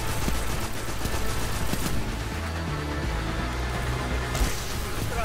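Rapid bursts of automatic gunfire from the video game Destiny 2 in Gambit mode, dense and continuous, with layered weapon shots and game effects filling the whole stretch.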